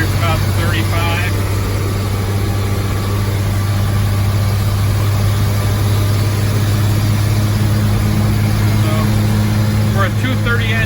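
A heavy vehicle fitted with a 230 engine runs in fourth gear around 35, giving a steady, loud low engine drone with constant road and cabin noise throughout.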